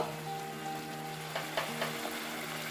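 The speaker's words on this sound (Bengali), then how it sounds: "এবার তেল বেরোনো অবধি ভালো করে কষিয়ে নেব" Ginger-garlic paste, tomato puree, turmeric and cumin powder frying in oil in a pan, a steady close sizzle with a few brief stirring scrapes toward the end.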